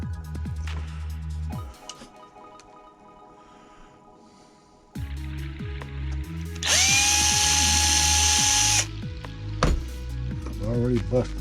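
A power drill works into plywood during an HMS Bounty model ship build, with bursts of motor whine, a loud high-pitched sustained run in the middle and clattering handling noises in between.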